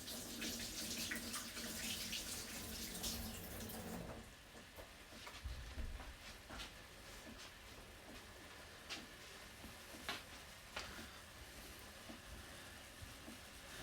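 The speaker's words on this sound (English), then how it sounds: "Wash hands again." Tap water running over hands at a kitchen sink while cooking protein omelettes, a steady rushing stream for the first four seconds, then fainter trickles, light clinks and ticks.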